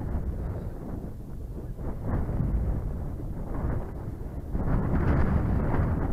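Strong wind blowing across Codden Hill slope during a model glider flying session: a continuous loud rumbling buffet on the microphone, gusting stronger toward the end, with no other sounds standing out.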